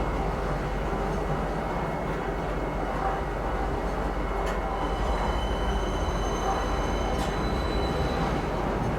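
A metro train rides through the Star Citizen city of Lorville, giving a loud, steady rolling rumble with faint squeals and rattles, and no voices.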